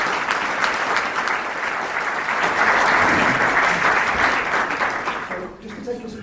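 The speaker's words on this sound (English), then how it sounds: "Can we have a round of applause for our clustering, please?" An audience at a business talk breaks into sustained applause, a dense, loud wash of many hands clapping that holds steady for several seconds before thinning out and fading near the end.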